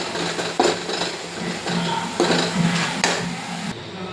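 A spoon scrapes and clinks in a pan while chicken curry gravy with spices is stirred, irregular metallic taps and scrapes at close range over a soft background hiss, no talking.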